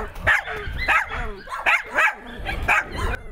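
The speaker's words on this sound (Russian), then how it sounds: "Те, что постарше, лают и виляют хвостом." Older dogs at an animal shelter bark repeatedly at visitors, giving about six sharp, close barks in an uneven rhythm with some yips between them.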